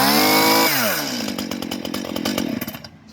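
A Stihl chainsaw, its chain brake off, revs up loudly with its engine rising and then settling into a rattling idle, close by with no one talking.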